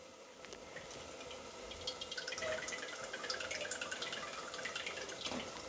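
Oil poured into a hot, dry pan: a soft, close trickle of liquid with light drips and splashes builds slightly over a few seconds, faint and without speech.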